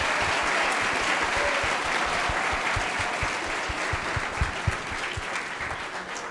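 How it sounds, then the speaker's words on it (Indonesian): Dense, steady applause fills a large school festival hall at a student event, loud and sustained throughout with scattered sharper claps standing out near the end. "Tepuk tangan mungkin buat teman-teman semua."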